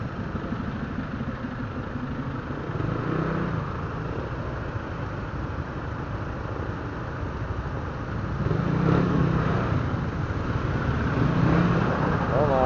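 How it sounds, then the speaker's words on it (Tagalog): Steady road traffic and engine rumble heard from a motorcycle on the way to work, a continuous broadband wash of passing vehicles that swells louder toward the end, with no one speaking. "Traffic na po."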